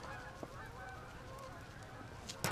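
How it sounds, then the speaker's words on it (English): Geese honk faintly in the distance as they fly over an outdoor backyard, a few scattered calls against a quiet background with soft outdoor noise. "hear them birds, they're moving."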